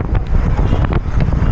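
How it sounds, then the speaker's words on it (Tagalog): Strong wind buffets the microphone of a cyclist riding a loop around Taal, a loud continuous low roaring rumble with gusty surges and no voices. "Grabe yung hangin."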